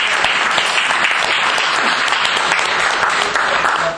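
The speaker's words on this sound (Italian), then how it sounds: "Io farò un applauso" Loud, close audience applause after a talk, dense rapid clapping sustained evenly throughout a few seconds.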